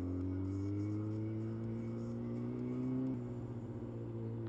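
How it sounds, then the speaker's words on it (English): A stalled motorbike's rear wheel spins out with a steady engine drone and rising pitched whine, then a sudden drop in tone partway through, loud and close with no voices. "my back wheel just spun out"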